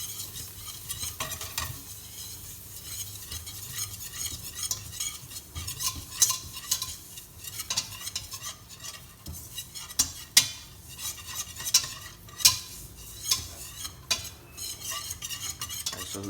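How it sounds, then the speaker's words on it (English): A whisk scrapes and stirs enchilada sauce with onion in a pan, repeated metallic taps and strokes over a soft sizzle, close and clear with no talk. "And then keep whisking. The reason you keep on whisking is so that they don't burn."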